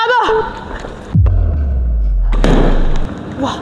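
At a bowling alley a ball is released with a thud and rolls down the lane in a low, steady rumble, ending in a sharp crash of pins; voices are heard at the start.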